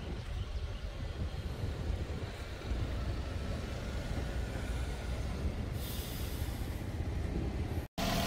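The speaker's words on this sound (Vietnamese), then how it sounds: "Đây là tiếng động cơ đang hoạt động và máy thì chạy khá là êm." A 2012 Toyota Vios engine idles smoothly, giving a steady, even, broadband rumble recorded close up with some wind-like noise and a brief dropout near the end.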